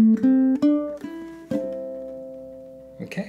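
Ukulele plays the closing measure of a two-chord blues tune: a handful of plucked notes and strums ring out in a loose rhythm, closely miked and alone, ending on a sustained chord with a final quick strum.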